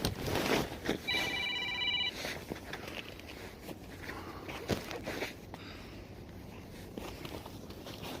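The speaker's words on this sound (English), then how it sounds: "somebody's ringing me now" A phone rings once in a short electronic trill, with footsteps and shuffling movement nearby before and after.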